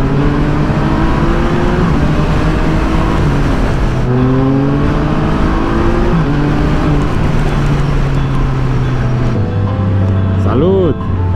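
A Can-Am Spyder three-wheel motorcycle accelerating on a dry road to overtake, engine droning and climbing through gear changes, loud and close with wind rush, and another vehicle whooshing by near the end.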